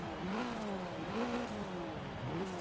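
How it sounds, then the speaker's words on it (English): Fiat Abarth 595 drift build in Forza Horizon 3, its small turbocharged engine rising and falling through revs with a turbo whistle and brief blow-off valve puffs between shifts, steady and fairly loud throughout. "Turbo sounds nice. Nice little blow off."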